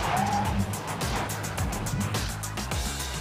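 A 2024 Kia EV9 GT-Line electric SUV swerving hard at 90 km/h through an obstacle avoidance test, tires squealing and scrubbing with a broadband skid hiss over engine and road noise, close and continuous.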